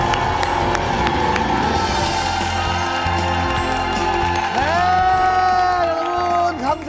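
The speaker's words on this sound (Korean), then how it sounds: "화이팅! 박수!" A studio audience at a 600th-episode television special claps and cheers loudly and continuously, with whoops and shouting voices over the applause, and a brief music sting near the end.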